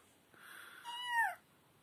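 A voice imitates a jackal's howl, a single rising then falling wail lasting about half a second, close and clear over a quiet background.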